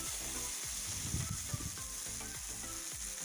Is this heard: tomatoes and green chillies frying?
yes